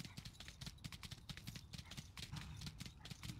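Rapid clip-clop hoofbeats of a horse galloping in the video game Tiger Knight: Empire War, a steady fast rhythm of quiet hoof thuds that carries on without pause and without talking.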